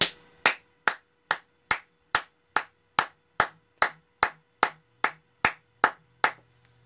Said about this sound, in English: if I were to start clapping